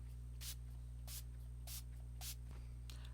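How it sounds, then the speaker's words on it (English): Four short, soft hissing spritzes of Paradise Refreshing Spray misted as a makeup setting spray, evenly spaced and faint against a quiet room hum. "This is the Paradise Refreshing Spray, but we're going to use it as kind of a little setting spray"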